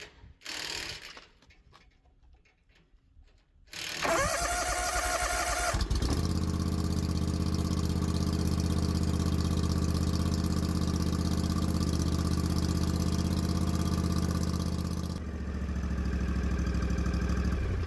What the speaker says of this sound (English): we're going to start the engine and let it run for about 5 minutes